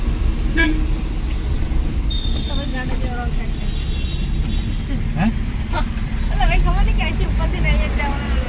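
Heavy road traffic with engines droning, and repeated car and bus horns honking at various distances over a constant roadway roar.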